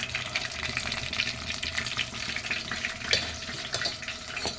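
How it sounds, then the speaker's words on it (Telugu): Green chillies fry in a pan, giving a steady close sizzle with a few sharp crackles and clinks and no talking. "ఇప్పుడు చూడండి పచ్చిమిర్చి అయితే ఫ్రై అయ్యాయి"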